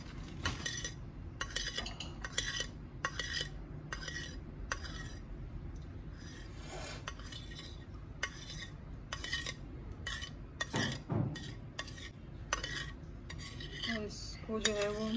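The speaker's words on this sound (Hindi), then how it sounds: "ये जेलीज की जो है वो हम कटिंग कर लेंगे।" Knife cutting fruit jellies on a dish for custard, heard as a series of sharp clinks and taps of metal on a plate, close and fairly quiet, with no talk.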